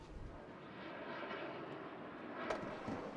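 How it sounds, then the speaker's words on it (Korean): A Korean-developed Surion helicopter in flight gives a steady, loud broadband roar that holds throughout, with a brief surge near the end and no voices. "수리호는 국내 환경과 여건을 고려해 개발된 헬기다."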